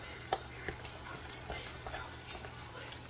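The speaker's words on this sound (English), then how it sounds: "So go ahead and mix it all up." Ingredients are mixed together in a bowl for a weeknight dinner, with quiet scraping and stirring and a few soft taps against the bowl, close by and without talk.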